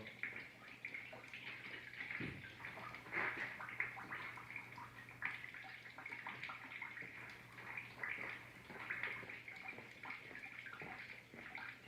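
Fluid drains steadily from a part on a Lexus parts car during rear-end removal, a continuous close trickling and splashing with faint dripping, no talk over it.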